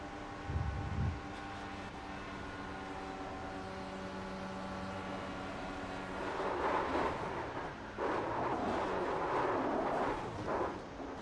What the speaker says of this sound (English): you guys listen to Terry's throttle control and you tell me what you think